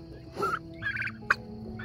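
Turkeys gobbling in a few separate bursts, fairly faint and a little distant, with a quiet background hum between calls.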